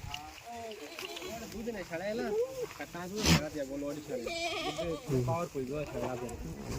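Pregnant goats bleat close by in a series of wavering cries, mixed with people talking throughout.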